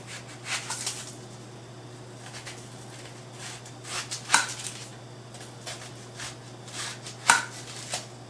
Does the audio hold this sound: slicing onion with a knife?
yes